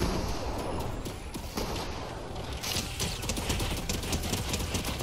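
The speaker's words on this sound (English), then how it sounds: "Oh, my turret's going at it." Rapid turret gunfire in a video game, a dense continuous stream of shots that grows busier partway through, loud and steady with no pauses.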